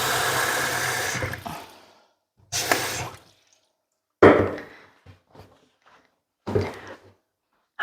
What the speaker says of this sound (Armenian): սառը ջուր ենք լցնում, այնքան, որ սենց լավ ծածկի ձվերին